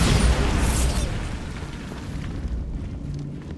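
Spell explosions from Confringo and Bombarda in the Hogwarts Legacy video game: a loud blast opens, followed by a rumbling, debris-filled roar that slowly decays into softer crackling.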